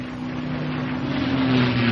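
A P-51 Mustang's piston engine drones steadily through a stall demonstration with gear and flaps up, a continuous loud, even hum with airflow noise and no speech.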